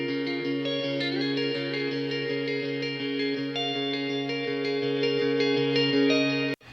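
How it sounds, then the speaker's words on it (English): Sustained electric guitar chords, captured with a close mic plus a room mic, ringing with a roomy, spacious tone, steady and loud throughout, with no voices, ending in an abrupt cutoff. "I always put up a room mic with the electric guitar"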